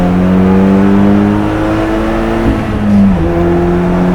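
A Peugeot 306 GTI with a swapped 2.0 TFSI engine accelerates with wheel spin on the Nürburgring, its engine droning loud and close from inside the car, the pitch climbing and dropping as the revs change.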